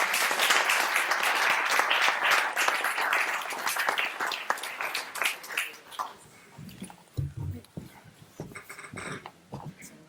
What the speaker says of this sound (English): first I would like to ask a round of applause